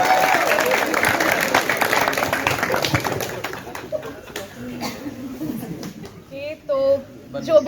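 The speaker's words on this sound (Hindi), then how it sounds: "उनका जोरदार तालियों से स्वागत करिए" Applause and clapping from a crowd welcoming Dr. Kirti Srivastava at a college cultural program, loud and dense at first, then thinning as voices and shouts take over toward the end.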